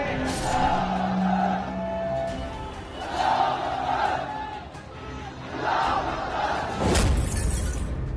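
A large protest crowd gathered in Jaipur, chanting and shouting in loud surging waves, ending in a sharp crash like breaking glass.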